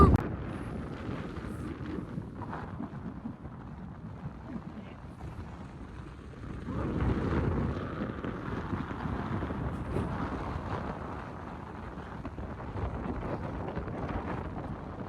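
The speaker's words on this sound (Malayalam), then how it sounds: "നല്ല കാറ്റ്" Strong wind roars and buffets steadily on Brahmagiri mountain in a low rumbling gust that swells louder partway through and keeps blowing to the end.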